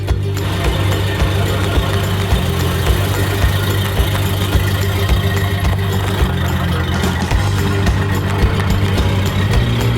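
A custom car's engine runs at a steady, throbbing idle for ten seconds, deep and continuous at close range, with no talking over it.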